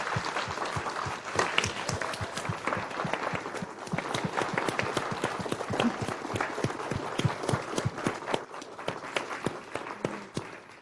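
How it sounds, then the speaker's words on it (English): A small audience gives a final round of applause at the close of an evening lecture on woods workers' songs, steady and moderately close for the whole span. "invite you all just to join us in one last round of applause"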